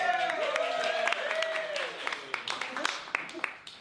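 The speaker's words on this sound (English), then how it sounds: "give them a round of applause" A small audience at a talk claps for a few seconds, with sparse scattered claps beneath ongoing speech and voices close by.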